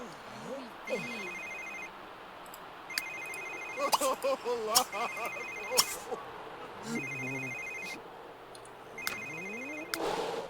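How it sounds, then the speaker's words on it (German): A telephone rings in The Sims 3 in repeated electronic trilling bursts with pauses between them, while someone talks and Sims chatter over the rings. "Ja, das Telefon, wirf's weg."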